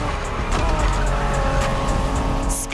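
A Honda NSX race car from the 1990s in The Crew Motorfest, engine droning loud and close with tires squealing and skidding, the steady roar ending in a sharp high screech.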